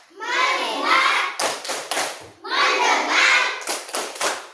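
Children chant the tepuk fokus clapping routine in a classroom, two bursts of voices each followed by a quick run of sharp, loud hand claps.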